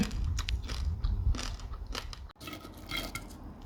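Crispy batter-fried small crabs crunch between the teeth up close, a run of sharp cracking bites and chewing crackles with a brief pause midway, no talking.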